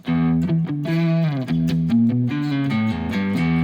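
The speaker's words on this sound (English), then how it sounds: "So it starts off with the very opening riff with the drive rolled all the way off." Electric guitar playing an opening riff through a Time Horse drive and delay pedal with the drive fully rolled off, giving a nearly clean, slightly pushed tone; steady, loud chordal phrases with no talking.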